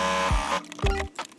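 A sewing machine stitches a thick fur lining onto a denim jacket in two short, close motorized whirring runs with a pause between them, followed by faint clicks.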